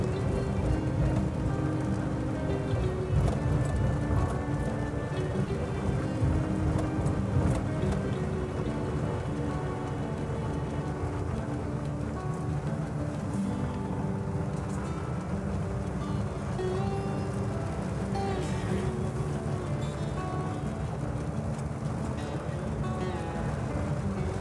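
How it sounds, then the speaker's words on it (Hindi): Steady rain pours down over Bahria Town, Karachi, across the whole stretch, a dense constant hiss with no pauses and no voices. "आज तो हम आपको माहौल दिखा रहे हैं बहरिया टाउन की बारिश का।"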